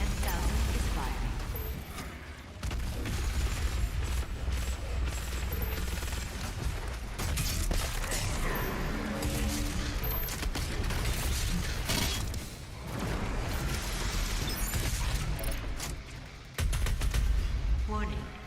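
Heavy BLG 10,000 weapon fire in Doom Eternal, dense bursts of mechanical gunfire and blasts running nearly continuously at loud level, with brief lulls between volleys.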